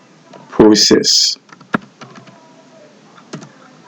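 Sparse keystrokes on a computer keyboard while typing Python code, a few isolated sharp clicks following a brief spoken phrase, close and fairly quiet.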